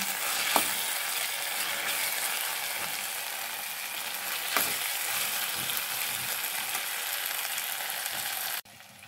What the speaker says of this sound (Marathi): टोमॅटो गाळ होईपर्यंत आपल्याला परतायचे आहे